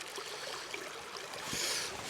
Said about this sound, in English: this wee stream is much needed